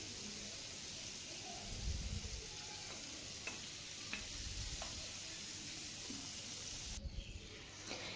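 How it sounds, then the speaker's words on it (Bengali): Spice paste sizzling in hot oil in a pan while being stirred, with a steady frying hiss, scraping spoon strokes and a few bursts of louder sizzle, fairly close and alone. "মশলাগুলো যে পেস্ট করে রেখেছিলাম সেটা দিয়ে একটু ভালো করে নেড়ে চেড়ে নিচ্ছি।"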